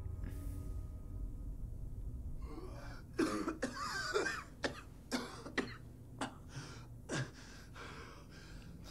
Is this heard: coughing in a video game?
yes